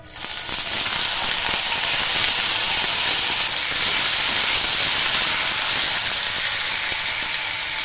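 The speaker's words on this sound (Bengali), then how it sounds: "এবার পেঁয়াজগুলো দিয়ে দিচ্ছি।" Onions frying in a pan, a loud, even, hissing sizzle that rises quickly and stays constant and close throughout, with no voices.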